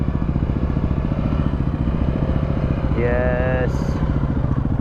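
A big group of motorcycles rumbles close by on a desert track, with a steady throbbing engine drone throughout. A single short voice is heard over it.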